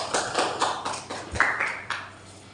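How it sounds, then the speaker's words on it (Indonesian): A short burst of applause from a small classroom group at the end of a student micro-teaching presentation, with scattered, uneven claps over a couple of seconds, fairly close and modest in volume. "bisa beri aplaus"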